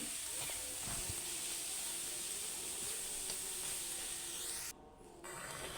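Boiled leafy greens (shak) frying in a pan, producing a steady, faint hiss and sizzle that breaks off briefly near the end before resuming.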